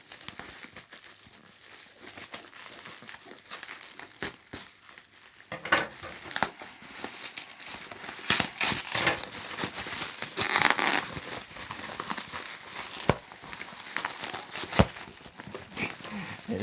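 Plastic or paper packaging crinkling and tearing as candle jars are unwrapped, quiet at first then louder, busier rustling and crunching bursts through the middle and end, with no talking.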